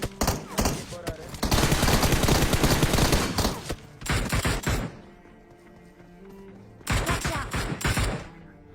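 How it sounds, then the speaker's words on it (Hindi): Dense game gunfire in PUBG Mobile, with loud bursts of shotgun and rapid shots in several clusters separated by brief quieter gaps, close and forceful. "ये शॉटगन नॉक।"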